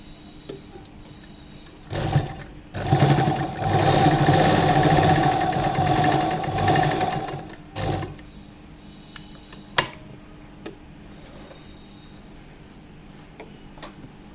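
A sewing machine stitches lehenga fabric in one steady, fast whirring run of about five seconds, followed by quieter clicks and handling noises.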